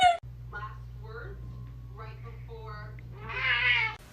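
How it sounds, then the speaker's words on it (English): A Turkish Angora cat gives a few short meows, close and fairly clear, over a steady low hum, with one longer, brighter cry near the end. "Albus is a Turkish Angora cat."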